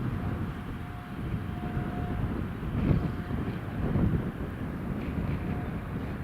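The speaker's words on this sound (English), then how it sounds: "British Airways is ready for departure," A British Airways airliner departs from runway 25 at Newcastle International Airport, a steady distant jet roar swelling slightly, mixed with wind buffeting the microphone.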